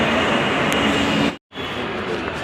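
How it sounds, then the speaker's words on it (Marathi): A railway train runs on the line below a bridge by Thane's main bus stop, giving a loud, steady broadband rumble that cuts out abruptly for a moment and then resumes. "रेल्वेच्या ट्रेन असतात."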